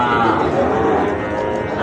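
A Sahiwal bull or calf at a rural cattle market in Bangladesh gives a loud, close, sustained moo that fills the whole short moment, with no talking over it.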